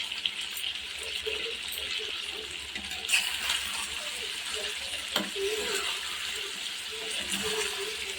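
Continuous sizzling and bubbling of tomato chicken frying in a pan, steady and close, with occasional stirring clatter.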